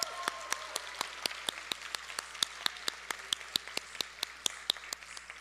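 A few people clap in a sparse, evenly spaced rhythm at a celebration, crisp individual hand claps over a faint steady hum, fairly quiet and without talk.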